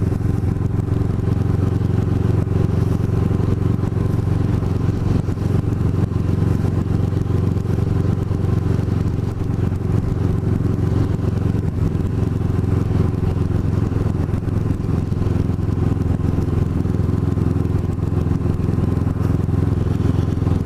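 A motorcycle rides steadily through West Cape May, with a constant engine drone mixed with wind and road rumble and no pauses throughout.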